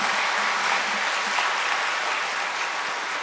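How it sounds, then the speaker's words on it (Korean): A church congregation applauds steadily during Sunday worship, a dense, even wash of many hands clapping throughout at a consistent loudness, with no voices rising above it. "모두 힘내라고 큰 박수로 응원해 주시기 바랍니다."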